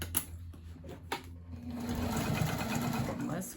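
Sewing machine running steadily while stitching the side seam of a tote bag, a close, continuous mechanical whir after a few short starts, with brief handling noise early on.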